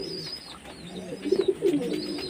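Madras pigeons coo in soft, throaty bursts close by, a few rounded calls rising and falling over faint background noise.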